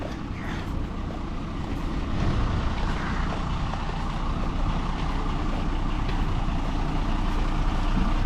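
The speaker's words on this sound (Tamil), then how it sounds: "இங்கே ஒரு பஸ் ஸ்டார்ட் ஆகுது" A bus engine near the Statue of Unity turns over and settles into a loud, steady diesel rumble that swells slightly after the first couple of seconds and then holds an even idle.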